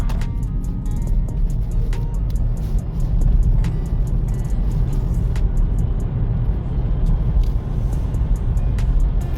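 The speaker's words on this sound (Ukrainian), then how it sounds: "Спробуємо зараз розгін від нуля до сотні, як вона поїде." From inside a 2014 Volkswagen e-Golf 24kWh electric car accelerating from 0 to 100 uphill into a bend, a continuous loud low rumble of road and tyre noise fills the cabin, with occasional faint ticks.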